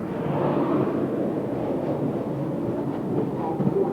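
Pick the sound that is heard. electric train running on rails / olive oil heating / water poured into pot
electric train running on rails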